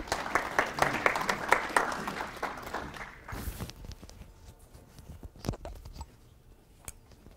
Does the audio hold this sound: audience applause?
yes